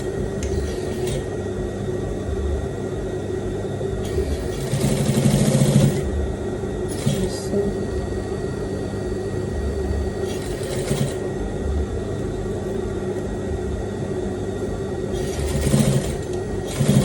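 A sewing machine stitches over an earlier seam line on a welt pocket with flap, running in several short bursts of buzzing against a steady background hum, with no talking.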